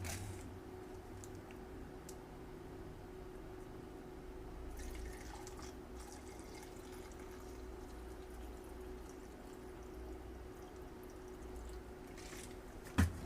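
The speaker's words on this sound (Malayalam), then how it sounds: "ഇതിനകത്തേക്ക് നമ്മൾ 100 ml പെട്രോൾ ആദ്യമേ ഒഴിക്കുകയാണ് കേട്ടോ" About 100 ml of petrol being poured into a measuring cup, a soft, faint liquid trickle with small drips over a steady background hiss, close by and without speech.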